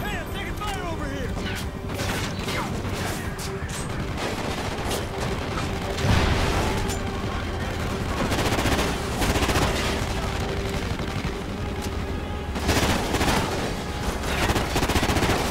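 Dense, continuous automatic gunfire and explosions from the Call of Duty Ghosts campaign, loud and close, with bursts layered over constant battle noise for the whole stretch and a voice shouting under it.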